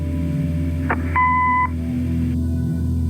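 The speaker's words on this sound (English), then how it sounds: "Leave a message after the beep." A single steady electronic beep lasting about half a second, clean and fairly loud over a low background hum: an answering machine beep in the video game Kathy Rain.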